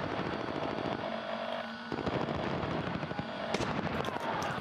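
Gunfire in the Call of Duty: Warzone video game, a steady stream of rapid shots and bursts sounding close and loud throughout, with game effects mixed in.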